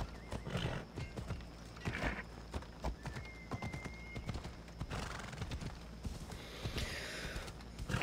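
Steady clip-clop of hooves at a galloping pace with a horse's whinny in Assassin's Creed Odyssey, thick with game ambience and a faint background hum.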